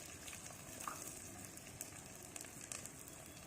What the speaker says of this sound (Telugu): కరివేపాకు ఇవన్నీ బాగా వేపుకోవాలి